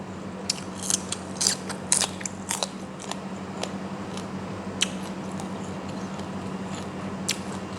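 Someone eats a frog soup, with irregular small crisp bites and chewing clicks up close over a steady low hum in the background, no talking.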